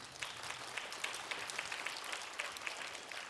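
Faint, thin clapping from a small audience at an awards ceremony for a drawing contest, with scattered individual claps standing out over a soft background.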